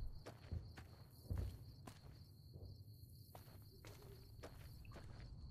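Heavy footsteps in Fallout: New Vegas, a few thudding steps near the start, then quieter ones against a faint, steady insect-like chirping ambience.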